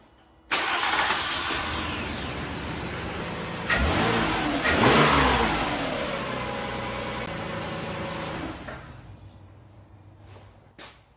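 2004-2006 Toyota Sienna engine, just back together after a spark plug replacement, cranks and catches abruptly, revs once, then settles into a steady close idle for several seconds before cutting off, with no talk.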